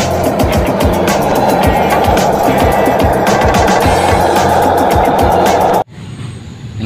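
A toy cement mixer truck rolls across a hard surface with a loud, continuous plastic-wheel rumble and rapid clicking, then stops abruptly near the end, leaving a quieter background.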